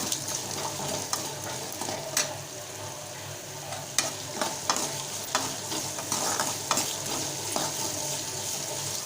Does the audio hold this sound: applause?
no